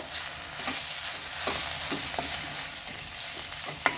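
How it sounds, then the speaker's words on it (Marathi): Fenugreek greens mixed with gram flour stir-frying in a pan: a steady, loud sizzle broken by rhythmic scraping strokes of a spatula, with no voices. "आता आपण यामध्ये डाळीचं पीठ घालून घेणार आहोत तर अशा पद्धतीनं आपण हे डाळीचं पीठ घालून घेऊन छान मिक्स करून घेऊया"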